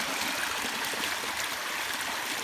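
Water streams steadily out of a cut swimming pool, a continuous even rushing flow like a small river with no voices over it.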